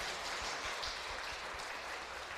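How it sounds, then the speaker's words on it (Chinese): A congregation at a Sunday church service claps steadily in welcome of a new member, a continuous soft patter of many hands heard at moderate distance without voices. "来，我们拍手欢迎她"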